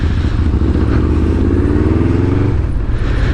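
An almost stock older Yamaha VMAX with an aftermarket exhaust, ridden on the road: a loud, close, continuous engine and exhaust drone with a steady throbbing pulse, easing slightly near the end.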